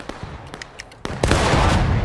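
Musket fire in a Civil War battle game, several scattered sharp shots at varying distances, then a loud close volley of overlapping gunfire that keeps rumbling and crackling.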